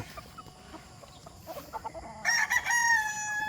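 Young roosters crow at a chicken farm, with faint clucks and background bird noise first, then one loud, close crow rising over the ambience in the final second and a half.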